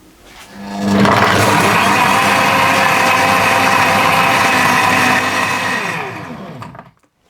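Blender whirring through mango lassi made with coconut milk, starting up with a rising whine, holding a loud steady roar for several seconds, then winding down to silence.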